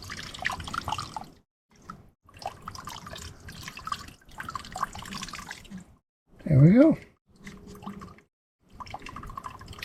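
Stream water drips off a leaf into a bag on an Appalachian Trail section hike, a soft, close trickle continuing between bursts of a man's speech.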